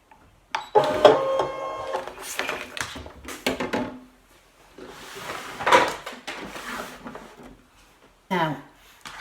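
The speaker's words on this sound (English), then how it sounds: "I'm going to say OK, and I'm going to unload the mat" A Brother ScanNCut cutting machine unloads its mat, giving whirring motor runs and mechanical clicks in bursts, with speech between them.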